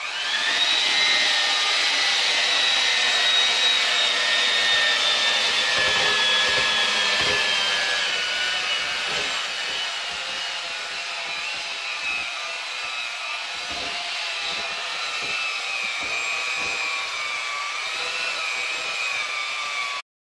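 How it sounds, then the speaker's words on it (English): An electric hand mixer beats eggs, oil and cake mix in a bowl, a steady loud high whir that runs for the whole stretch with slight shifts in pitch as the beaters move. "Eggs, oil, and cake mix, it's time to mix it up."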